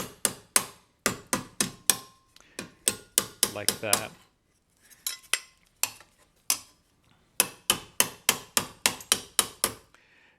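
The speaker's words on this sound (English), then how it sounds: "take the Delrin mallet and hammer these" A Delrin mallet strikes metal spatula parts in rapid bursts of sharp, close knocks, several quick blows per burst with brief pauses between, plus a short spoken phrase.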